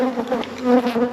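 Honey bees buzz steadily around a hive while a queenless colony is requeened with a nuc: a loud, continuous, close droning hum that swells slightly partway through, with no talking.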